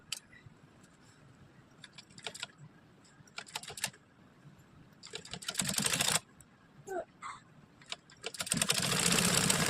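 A sewing machine stitches a princess cut blouse in short bursts of rapid mechanical whirring and ticking, stopping and restarting, with a longer, louder run near the end, close by and fairly quiet overall.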